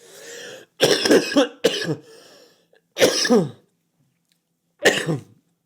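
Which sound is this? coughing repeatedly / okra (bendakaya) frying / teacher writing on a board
coughing repeatedly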